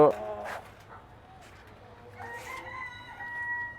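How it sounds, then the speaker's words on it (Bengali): Leghorn chickens at a fancy poultry sale, with a loud cluck at the start and a rooster crowing toward the end, close by under background noise and faint talk. "এই যে এখানে আমাদের লেগনের মেলগুলো আছে, এই যে দেখেন 2টা লেগনের মেল"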